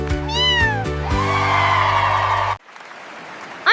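A cat meows in a few quick, rising-and-falling cries over bright, steady backing music. After a sudden cut there is near silence, then one more short meow at the very end.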